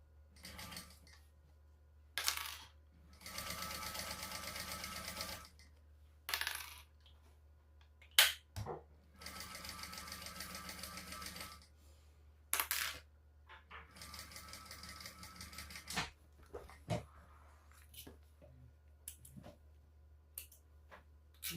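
A sewing machine joins bag pieces in several separate runs of a few seconds each. Sharp clicks and handling noises fall between the quiet pauses.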